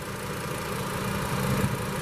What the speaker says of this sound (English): you really just cannot beat that 5-cylinder sound as well.